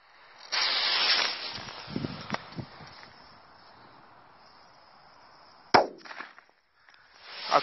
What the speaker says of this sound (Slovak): Ďalej, tu máme petardu TNT.